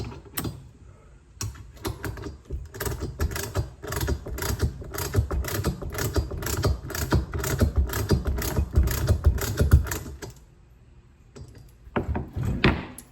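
A hand ratchet tightens a nut on a motorcycle stand with rapid, close clicking in quick bursts, pausing briefly near the start and again toward the end.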